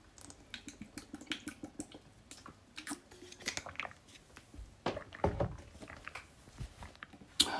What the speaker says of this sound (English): I'm drinking some water.